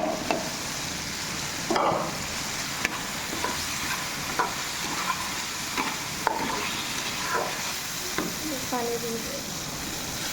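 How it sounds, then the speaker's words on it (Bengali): Potatoes tossed into a pan of frying spice paste, sizzling steadily with a soft steamy hiss while a spoon scrapes and stirs at intervals, close by and without voices. "মশলা কষানো হয়ে গেছে আলুটা দিয়ে দিলাম"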